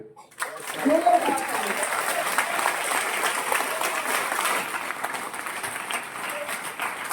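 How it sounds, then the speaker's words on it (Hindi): Sustained applause from a group at the end of a training session, a dense wash of clapping that swells early and continues steadily to the end. "हमारी ट्रेनिंग फिनिश हो चुकी है, इसलिए तालियां।"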